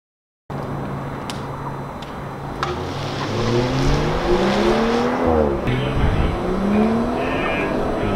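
A BMW 540i engine revs up and accelerates hard, pitch climbing through gear changes, loud and close, with road and wind noise behind.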